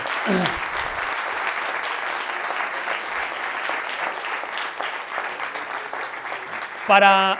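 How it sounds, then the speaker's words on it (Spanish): An audience at a talk on overcoming addiction applauds steadily for several seconds, close and even, with a brief voice cutting in near the end. "Un aplauso para los adictos que están sufriendo."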